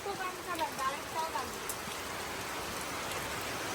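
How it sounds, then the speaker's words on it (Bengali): Rain falls steadily as a broad hiss. A voice calls out briefly near the start, then the rain carries on alone to the end. "বৃষ্টি হচ্ছে"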